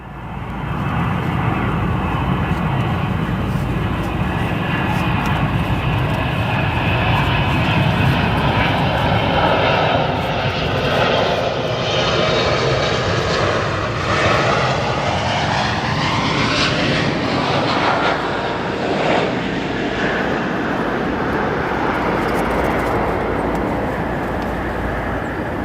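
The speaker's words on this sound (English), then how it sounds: "Here's our Austrian Heavy 777 arriving from Vienna" An Austrian Airlines Boeing 777 heavy jet arriving at O'Hare from Vienna roars loudly and steadily overhead, its engine whine sweeping in pitch as it passes, with no talk over it.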